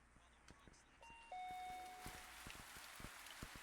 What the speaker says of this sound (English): Nice chill rain